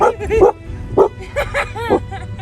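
Dogs barking in a series of sharp yips and barks, several close loud bursts spaced irregularly, with some whimpering between them.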